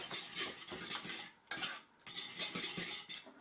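A fork rapidly whisks a small batch of food in a bowl or dish, producing quick, steady clinking and scraping strokes that run continuously with a brief pause midway, close and clear.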